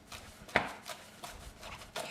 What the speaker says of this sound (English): we're gonna do what's called a chiffonade cut, where you're doing very, very thin,